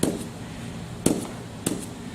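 A cricket bat strikes a ball on a Pro Power Drive Shot Shaper batting trainer, giving three sharp, loud cracks spaced about half a second to a second apart, each followed by a brief ring.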